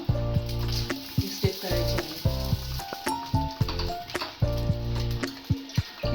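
Ghavan, a rice crepe, sizzles steadily on a hot pan, a close continuous fry punctuated by soft scraping and tapping as it is turned.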